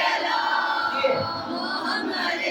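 A congregation at a Shia majlis in an imambargah in Gulistan-e-Jauhar loudly recites salawat in unison, a dense, sustained wall of massed voices that swells and holds throughout.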